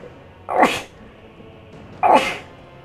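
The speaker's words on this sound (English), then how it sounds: "I gotta sneeze." A man sneezes twice, two sharp, close bursts about a second and a half apart over a quiet background hum.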